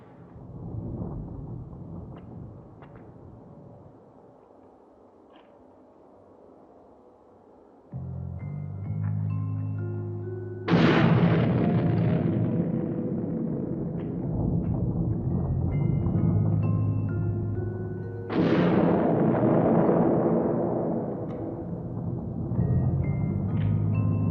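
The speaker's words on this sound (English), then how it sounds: "More surface explosions?" Two deep, booming blasts from surface explosions on the moon, rendered as a TV sci-fi sound effect, each striking suddenly and rolling off under a steady low hum and musical score.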